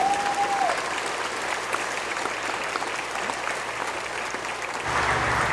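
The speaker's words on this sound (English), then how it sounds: "Ladies and gentlemen, please join us in giving these fine soldiers a round of applause." Sustained applause from a large audience at an Army infantry graduation ceremony for 2nd Battalion, 19th Infantry Regiment soldiers at Fort Benning, holding steady throughout and swelling louder near the end.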